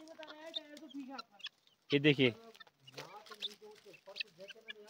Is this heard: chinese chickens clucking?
yes